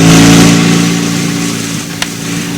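A motorcycle engine revving loudly up close and then easing toward a steady idle before parking, with a single brief click near the end.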